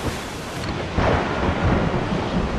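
A thunderstorm at sea in Assassin's Creed 4 Black Flag rumbles with rolling thunder over a steady wash of rain and wind, swelling louder partway through, with no voices.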